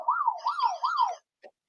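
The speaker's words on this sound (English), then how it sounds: "it's a buzzer question." Quiz buzzer sound effect sounding alone, a warbling electronic tone cycling three times in quick succession, then a short blip after a brief gap.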